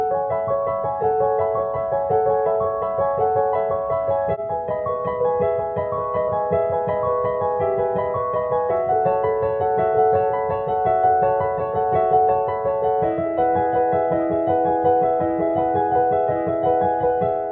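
A piano plays a steady, flowing melody of a song at full tempo with a repeating bass rhythm, loud and close, with no voices.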